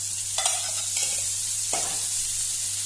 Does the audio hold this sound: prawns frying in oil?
yes